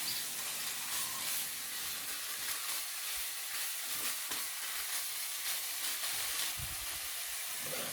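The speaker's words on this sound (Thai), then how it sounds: "ผัดให้3เกลือหมู3ชั้น แล้วก็ ผักกาดดองเข้ากันให้หมดเลยนะครับ" Three-layer pork belly and pickled mustard greens stir-frying in a hot pan make a constant loud hiss and sizzle, with occasional scraping stirs and knocks, no talking.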